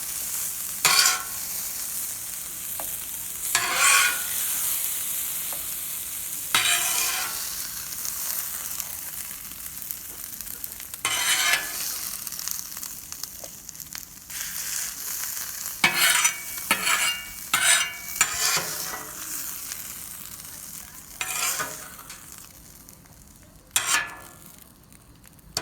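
Meatballs and steak sizzling in a pot for Italian wedding soup, heard as a steady low fry punctuated by repeated bursts of stirring and scraping, close and with no talking.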